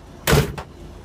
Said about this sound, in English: Here's the door closing.